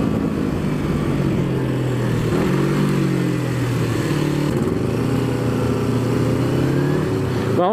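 A sports motorcycle ridden on the road, its engine drone steady and close throughout with slight shifts in pitch, loud and continuous with no talking.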